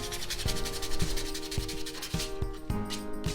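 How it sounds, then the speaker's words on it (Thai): A metal washer is filed by hand into a bottle opener, giving close, loud rasping strokes that repeat in a steady back-and-forth rhythm about twice a second, with no speech. "ตะไบครับขั้นตอนนี้ใช้เวลานานมาก ๆเลยนะฮะ"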